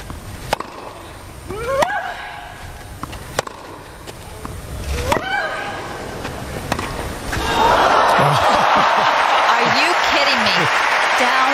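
A Wimbledon tennis crowd breaks into loud, sustained applause that swells in and holds for the last few seconds, after a stretch of sharp ball strikes, squeaks and murmuring over a commentator's voice.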